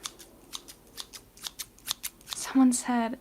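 Old rusty scissors snip repeatedly in quick, crisp metallic cuts up close, then a voice speaks over the last few snips.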